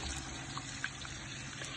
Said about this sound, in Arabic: ننزل بالميه المغليه